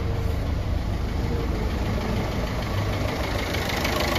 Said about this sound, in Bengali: ইঞ্জিনের সাউন্ড হচ্ছে।